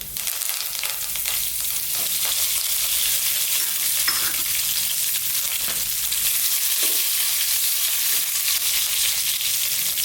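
Curry leaves hit hot oil already fragrant with star anise and cinnamon, giving a steady, bright sizzle and crackle throughout, with a few soft stirring knocks and no talk.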